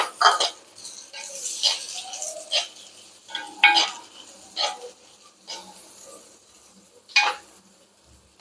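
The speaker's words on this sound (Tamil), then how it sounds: "ஒரு 2 வெங்காயங்க, பெரிய வெங்காயம் மட்டும் 2 வெங்காயம் போட்டிருக்கேன். இது நல்லா வதக்கிடலாம்." Two large onions sautéing in hot oil for Chettinad chicken curry, a spoon scraping and stirring the pan in repeated bursts over a soft steady sizzle, close up.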